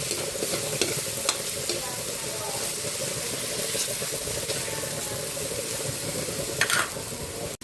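Alamang, Filipino shrimp paste, frying in a pan with tomato while being stirred: a constant close sizzle and hiss with occasional scraping strokes, loud and continuous.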